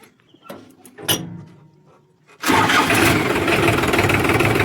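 A tractor's diesel engine cranks and catches, settling into a loud, steady idle that runs to the end, after a few quieter clicks and knocks during the first couple of seconds.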